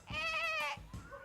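A human voice imitates a goat's bleat during a guessing game, a wavering nasal bleat held for about half a second, followed by a shorter second bleat, close and fairly loud.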